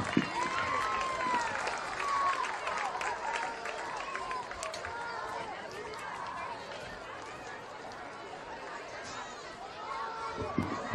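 Crowd at a high school football game between Gosnell and Rivercrest, steady applause and chatter filling the stands, with a PA announcer's voice over the clapping and crowd noise throughout.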